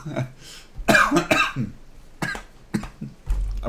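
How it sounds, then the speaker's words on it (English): Several harsh coughs and throaty bursts come in irregular clusters, close to the microphone, mixed with laughter-like vocal sounds. "gonna have a coughing fit laughing so much"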